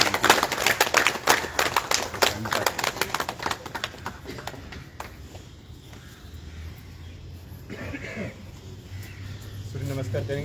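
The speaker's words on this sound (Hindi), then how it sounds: "इसलिए ताली आपके लिए" A group at a yoga session claps in quick, sharp, rapid bursts for several seconds, then the applause fades into background noise as a voice talks.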